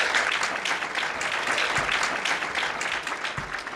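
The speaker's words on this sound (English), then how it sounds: "give yourselves a big hand of applause." Sustained applause from a crowd at a staff appreciation ceremony, dense and steady clapping throughout at moderate loudness.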